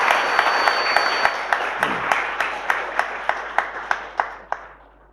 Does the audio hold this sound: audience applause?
yes